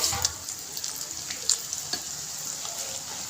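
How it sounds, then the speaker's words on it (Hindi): Methi bondiya (fenugreek fritters) frying in hot oil over a high flame, a steady broad sizzle with a few sharper crackles and pops, close and moderately quiet, no talking. "हमने दोबारा इसे ऑयल में डाल देना है। फ्लेम को हाई करके डालना है"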